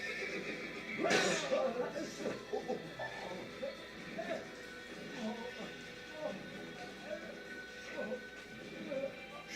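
A horse in the Assassin's Creed video game whinnies loudly near the start, followed by softer snorts and hoof clatter over a busy background of game ambience.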